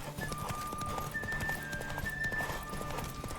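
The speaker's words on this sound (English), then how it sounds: "Why is there a horse on the track?" Horse hooves gallop in The Witcher 3, a fast rhythmic clip-clop on a race track with a faint tonal whine above it, steady and moderately close throughout, with no talk.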